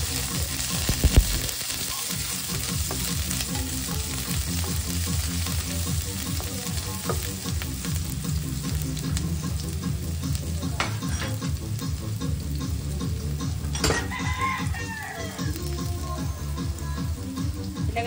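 Onions sizzle loudly in a pan while pork ribs are being cooked, a continuous close frying hiss with occasional stirring clinks and scrapes throughout.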